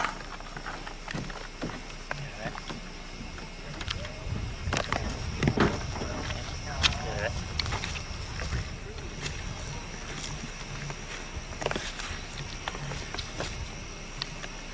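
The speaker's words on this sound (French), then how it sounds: "il y a un monsieur en chaloupe à moteur qui arrive." A small motorboat approaches across the water, its engine and water noise rumbling continuously while people talk nearby over it.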